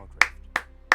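Three sharp, isolated hand claps land at an even pace, close and clear against near silence.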